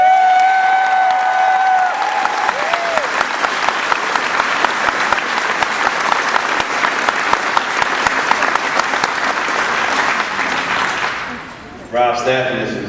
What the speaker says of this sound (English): they deserve just as a round of applause